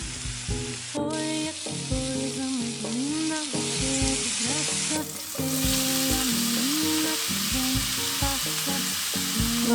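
Onions, minced garlic and chorizo fry in melted butter in a pan, a steady close sizzle with stirring, partly under background music.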